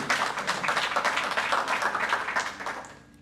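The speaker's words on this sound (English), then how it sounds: "we'd appreciate if you don't clap so we can hear anybody else that wants to speak" Audience clapping fills a York County council meeting, a dense, steady patter of many hands at moderate level that thins slightly toward the end, with no talk over it.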